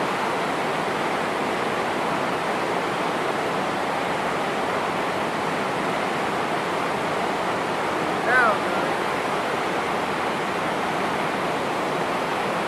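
A chocolate waterfall on a film set churns steadily, a constant rushing roar of falling liquid that fills the whole clip at an even level, with only a brief faint squeak partway through.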